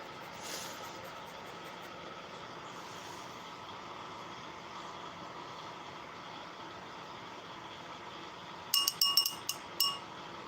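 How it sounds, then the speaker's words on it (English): A wine glass holding water clinks near the end, a quick cluster of bright ringing taps over a steady low background hum. "I'm using a wine glass for my water tonight."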